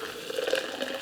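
Boiling water pours steadily into a French press, a close, continuous liquid trickle and splash with a gently rising, bubbling tone throughout.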